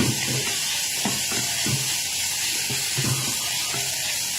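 Fried tofu tubes being stir-fried in a pan give a steady, close sizzling hiss with soft, rhythmic scraping strokes about once a second as they are tossed.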